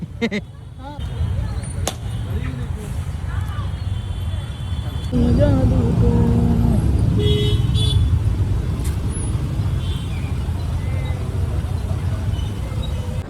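Road traffic in heavy monsoon rain: steady broadband rumble of cars and buses on a wet road, with occasional horn toots, loud and continuous throughout, with faint voices in the background.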